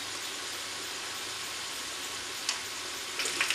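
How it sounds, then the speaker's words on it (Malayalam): Chicken momos frying in hot oil, a steady soft sizzle throughout with a couple of brief louder crackles toward the end. "അപ്പോൾ ഇതൊന്ന് നന്നായിട്ട് ഫ്രൈ ആയി വരട്ടെ."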